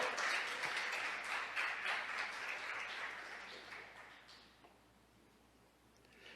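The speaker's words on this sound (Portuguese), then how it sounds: "Você pode aplaudir o nome do Senhor?" A church congregation claps in broadband applause that is strongest over the first four seconds, then thins out and fades toward a quiet tail.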